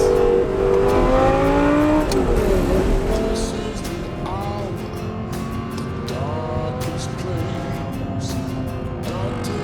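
A V10 Audi R8 with a gated 6-speed manual gearbox revs hard, the engine note climbing and dropping through several rising sweeps under a steady loud roar, as if heard from inside the car.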